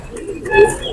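Pure-bloodline Jaldar Fakir Gul pigeons give a single short, close, low throaty coo over quiet background noise.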